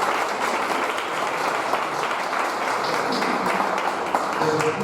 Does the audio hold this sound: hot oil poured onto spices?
no